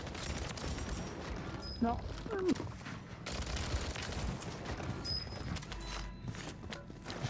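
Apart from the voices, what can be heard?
shotgun fire in the video game Call of Duty Warzone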